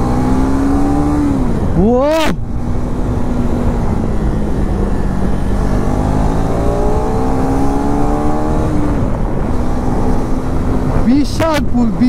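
A KTM Adventure 390 motorcycle pulls hard in second gear. The engine note climbs sharply, drops at a shift near the start, then rises again to another shift near the end, close and loud under wind noise, with a brief vocal sound.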